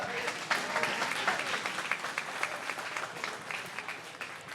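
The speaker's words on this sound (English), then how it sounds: "Let's give them a round of applause." A crowd applauds a catfishing tournament team at the weigh-in, with dense, sustained clapping and many sharp individual claps that slowly fade, and a few voices mixed in.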